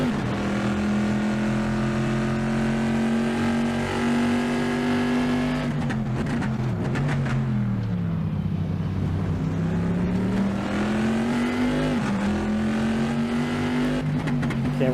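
A Trans Am race car screams around Laguna Seca in a racing video game, a loud, sustained engine note that holds high, drops and dips through a corner, then climbs again under acceleration, with no talk.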